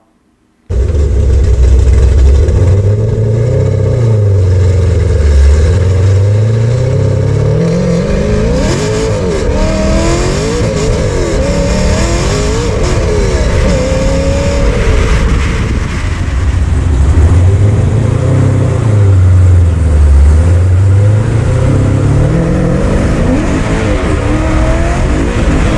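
A Chevy Blazer with a Corvette C5 engine and American Racing headers revs loudly and close, its engine rising and falling through repeated throttle blips over a steady idle rumble, heard alone.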